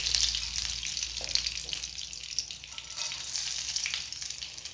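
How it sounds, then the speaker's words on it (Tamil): Mustard seeds sizzle and crackle in hot oil for a Tamil mint chutney tempering, a steady, dense frying hiss throughout with no talking. "இப்போ நம்ம கடுகு சேர்த்துக்கலாம்."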